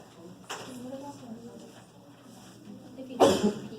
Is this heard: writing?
no